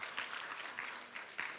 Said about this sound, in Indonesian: Kita kasih tepuk tangan buat kemuliaan nama Tuhan.